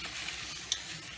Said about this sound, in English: I got my fries frying